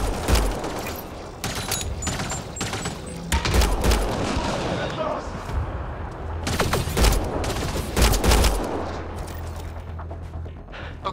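Video game firefight in Mass Effect Andromeda: bursts of rapid gunfire and single shots crackle in clusters, some close and sharp, with low booms and a voice calling out beneath.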